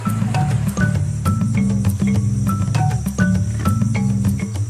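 Jungle crickets in the Amazon chirp in short repeated bursts over a dense, steady insect drone, loud and close, with no voices.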